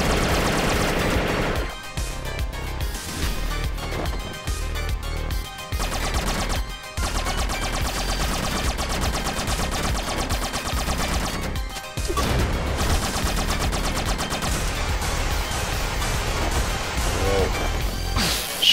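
Cannon shots in The Mummy Demastered video game fire as rapid, repeated blasts in a dense, steady barrage over loud game sound, broken by a few short pauses.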